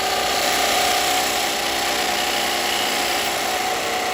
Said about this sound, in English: Right, long grind spindle gouge. I'm just going to take this down.